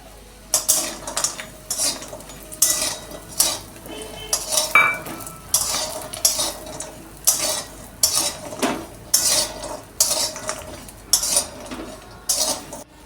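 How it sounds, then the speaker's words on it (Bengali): Bori lentil dumplings frying in hot ghee in a kadai, faint sizzle beneath a rhythmic series of sharp metal spatula scrapes and clinks against the pan, repeating roughly every second. "কড়ার মধ্যে ঘি ঘিটা গরম হয়ে গেছে এখন দিয়ে দিচ্ছি বড়ি বড়িগুলো কিন্তু ভেজে নেবো প্রথমে"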